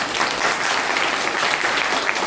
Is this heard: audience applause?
yes